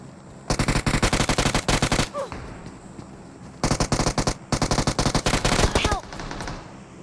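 Loud automatic gunfire in the mobile battle royale game PUBG Mobile, several long rapid bursts separated by short gaps, close and dominant throughout.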